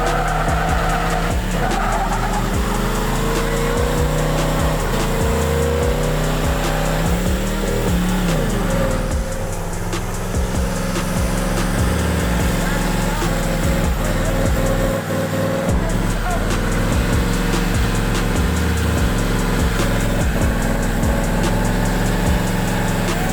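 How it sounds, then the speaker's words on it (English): A Toyota FJ45 doing a burnout, its engine roaring continuously while the tyres squeal and skid for a long, loud stretch, with the revs rising and falling through the gears, close up. "You get in with him. You two built it. You get to fry the tyres."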